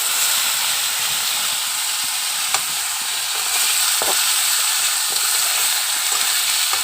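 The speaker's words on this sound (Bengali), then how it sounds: "আলু একদম মরমরা করে ভাজে নিয়া" Potatoes frying until crisp in hot oil, a steady close hiss and sizzle with a few faint utensil clicks, heard alone with no talking.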